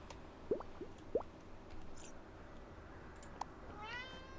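A cat meows faintly a few times in short squeaky calls over a low background hum, with quiet drip-like sounds mixed in.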